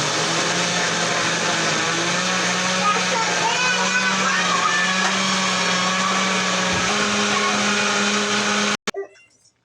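A kitchen blender runs steadily, whirring as it blends corn cake batter with salt and cinnamon powder, loud and continuous for about nine seconds before cutting off abruptly.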